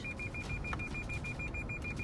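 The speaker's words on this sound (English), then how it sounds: "their Lexus starts beeping out of control" A steady electronic beeping from a Lexus sensor repeats in quick, even pulses over the low hum of the car interior at a highway intersection.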